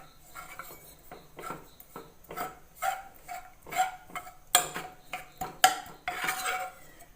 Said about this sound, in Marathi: असं बारीक करून घेत चमच्याने आमटी पातळी नाही होत